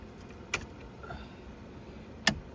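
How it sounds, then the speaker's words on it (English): Keys jangle briefly as the ignition on a 1983 Johnson OMC 140 hp outboard boat is switched on, two short metallic clinks roughly two seconds apart over a low, steady background. "Key on."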